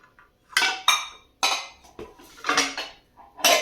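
Metal kadhai pans handled and set down in a store give several loud, close clanks and clinks in irregular bursts, with quiet gaps between them.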